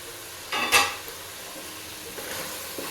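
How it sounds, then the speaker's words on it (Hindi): Keema being stirred in a pot gives a short burst of scraping and sizzling, followed by quieter faint stirring and frying noises. "ये कीमा हमारा गल चुका है, अब इसकी हम बुनाई कर लेंगे।"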